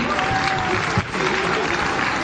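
Steady applause from a group at an archery festival fills the clip, a dense continuous patter of clapping at moderate volume.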